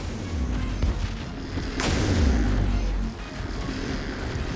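Iron cannons fire in a space battle in the strategy game Distant Worlds 2, a dense rumbling barrage with one sharper, louder boom partway through, steady and fairly loud with no voices over it.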